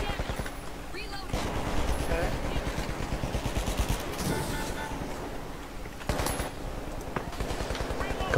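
Rapid AK rifle fire in the shooter game The Finals, with dense, rhythmic full-auto bursts rattling almost continuously and close. A player talks over the shots.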